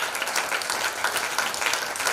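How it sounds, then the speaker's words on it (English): Sustained applause from a school principals' conference audience, dense steady clapping throughout, loud and close with no pauses. "please give yourself a big round of applause."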